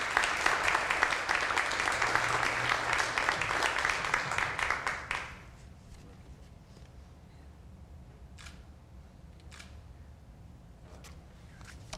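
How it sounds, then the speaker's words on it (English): Audience applause at a partners' dinner, a dense burst of clapping that holds strong for about five seconds and then drops away to quiet room tone with a few scattered sharp clicks. "Let's give them a big round of applause."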